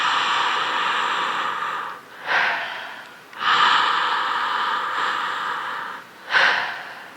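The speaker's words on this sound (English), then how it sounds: "I'm breathing in and out through my mouth." Connected breathing in and out through the mouth during a guided breathing exercise: long, airy, continuous breaths close to the microphone, separated by brief pauses and a few sharper inhales.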